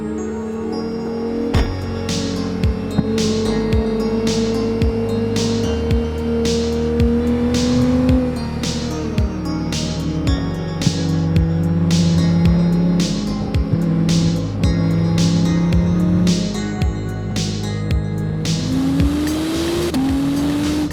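A 2018 Acura NSX hybrid supercar drives hard, its engine climbing through revs in repeated rising pulls punctuated by sharp gear shifts, loud and close throughout with a steady whine and occasional tire noise.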